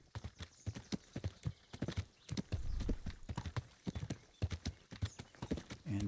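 A horse's hooves clip-clop in a brisk, uneven cantering rhythm in a medieval video game, close and clear, with a brief heavier rumble partway through and no speech.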